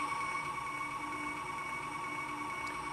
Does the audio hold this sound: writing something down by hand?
no